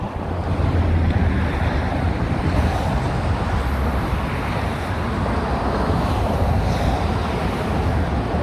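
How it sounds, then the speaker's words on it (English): Light breeze at the Golden Gate Bridge on a mild day, a steady broad rush of wind buffeting the microphone with a constant low rumble, continuous and close for the whole stretch with no voices. "There's a light breeze blowing."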